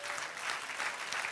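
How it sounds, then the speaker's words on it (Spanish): Brief, faint applause from a church congregation during a sermon, a soft wash of clapping at a distance. "Dale un aplauso al Señor."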